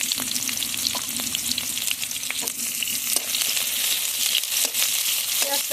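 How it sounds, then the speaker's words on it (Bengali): Chopped onions sizzle and fry in hot oil in a pan while cooking a Bengali chola shak bhaji, a steady crackling hiss with occasional stirring scrapes throughout. "পেঁয়াজটা ভেজে নেব।"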